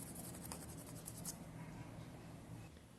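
Coloured pencil scratches over paper laid on a coin, tracing its rim and raised numbers; the faint, quiet strokes come in short rapid bursts at first, then settle into a softer continuous rubbing.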